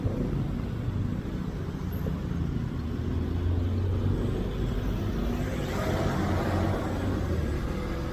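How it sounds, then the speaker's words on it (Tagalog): Dense continuous rumble of heavy Friday road traffic with many cars, heard steadily from inside a vehicle with no breaks. "Wala, may pagka-biyernes talaga, napakarami ng sasakyan."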